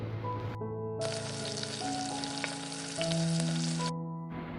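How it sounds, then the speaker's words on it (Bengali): Egg koftas frying in a pan over medium heat until reddish, an even sizzle heard close up over a steady hum, with no talking. "কোফতাগুলো মিডিয়াম হিটে একটু লালচে করে ভাজতে হবে"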